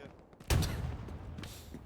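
Gunfire in the video game Hell Let Loose, a sudden loud burst of shots at mid-clip followed by a rumbling decay and faint further shooting.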